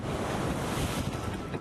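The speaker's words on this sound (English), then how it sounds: "Winds gusting to 30 miles per hour churned big surf that pushed water onto Boston streets." Big ocean surf churned by gusting winds of up to 30 mph along the Boston coast during a winter storm, a loud continuous roar of crashing waves with heavy wind buffeting the microphone and no talking.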